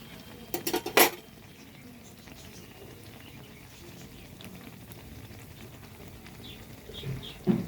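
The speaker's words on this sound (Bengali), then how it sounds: "এবার এটাকে উল্টে আমি আর 1 পিঠে দেবো" Malpua being flipped in a frying pan, a few sharp metal clinks of a spatula against the pan near the start and end over a soft continuous frying hiss, no one speaking.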